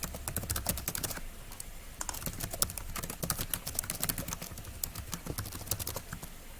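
Rapid, steady typing on a computer keyboard while entering hotel booking details into a travel booking web form, dense close clicks running throughout with no speech.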